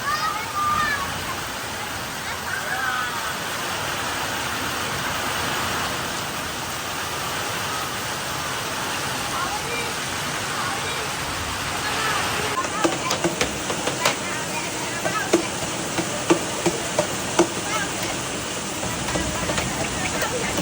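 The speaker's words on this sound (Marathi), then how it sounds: "बघा आवाज बघा मित्रांनो आवाज पावसाचा आणि फुल जोर पकडलाय" Continuous heavy monsoon rain pouring down in the Konkan, a dense roaring wash that grows choppier with scattered drips and splashes midway, with voices faintly present.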